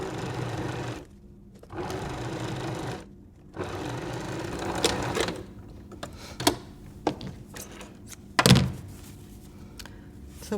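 A sewing machine stitches patchwork quilt pieces in several short bursts of close, rapid whirring separated by pauses, followed by sharp thunks and handling clicks.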